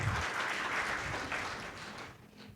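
A church congregation at a worship service claps in a dense, steady round of applause that holds and then fades slightly toward the end, somewhat distant and muffled.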